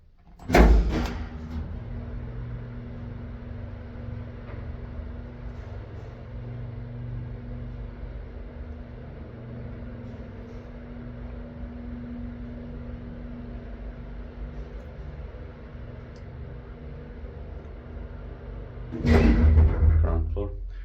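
An old Kone traction elevator in an apartment building in Rovaniemi, Finland, runs with a steady low hum and rumble for most of the ride, with louder door or mechanism clunks at the start and near the end.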